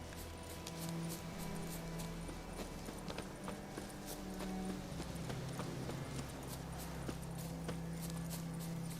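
Witcher 3 game horse hooves clip-clopping in a steady rhythm over a low ambient bed, fairly quiet and continuous throughout with no talk.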